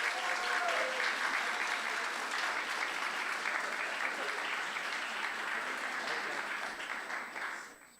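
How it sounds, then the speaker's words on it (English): A crowd at a school English Day event claps steadily in a dense, sustained wash of applause that fades out near the end. "Please join me in giving him a big round of applause to Camilo."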